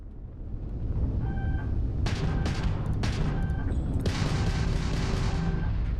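Spaceship gunfire in Starfield, several bursts of rapid sharp shots over a steady low engine rumble, with a beeping tone threaded through the later volleys.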